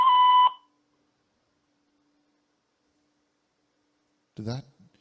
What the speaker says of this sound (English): I think that got beeped.